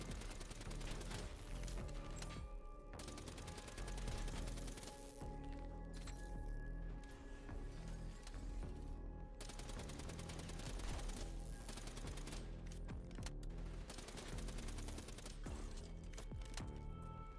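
Gunfire in the video game Black Ops 3, dense bursts of rapid shots and mechanical clatter running continuously at a distance-muffled low level amid game action.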